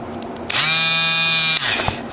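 A small Dremel rotary tool enlarges a hole in a microphone case, a high steady whine spinning up for about a second before it cuts off.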